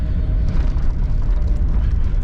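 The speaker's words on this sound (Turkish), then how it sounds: "Tabi arabanın içinde şimdi gürültü de oluyor." Cabin of an old 1998 Tofaş Doğan on the move along a rough mountain road, with a loud, steady low rumble and road roar filling the interior continuously and no voices.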